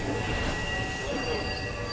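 An ICF-coach express train departing Hyderabad's Deccan station after a brake test gives a steady, loud rail rumble with a faint wheel squeal throughout, and no talk is heard.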